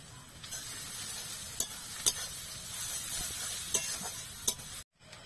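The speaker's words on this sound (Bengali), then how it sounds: "পেঁয়াজটা লাল লাল করে ভাজা হয়ে গেছে, এবার এর মধ্যে দিয়ে দিচ্ছি কিছুটা পরিমাণ বাটার।" Onions fried until reddish-brown in a pan, with butter just added, give a steady close sizzle and hiss, punctuated by several sharp clicks of stirring, then cut to sudden silence near the end.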